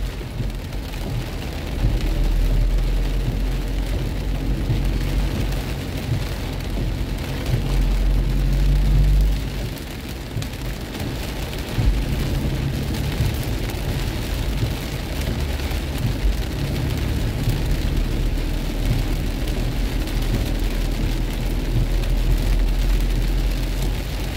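Steady rainfall, the first rain of the season in Kolkata, a constant dense hiss of drops outdoors with a low rumble of passing traffic underneath, unbroken for the whole stretch.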